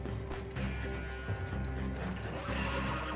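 A coach horse in Red Dead Redemption 2 neighs faintly over a steady, busy background hum with clopping hooves and light mechanical rattling.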